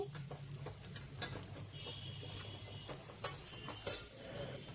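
Grated coconut is stirred and sautéed in oil for mutton pallipalayam, a low steady sizzle broken by occasional spatula scrapes and clicks, fairly quiet and with no talking.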